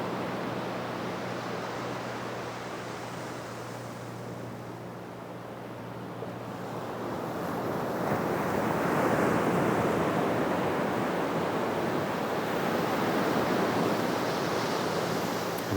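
Ocean waves roll onto a sunny beach in a steady, washing roar that swells louder partway through and stays full, with no voices over it.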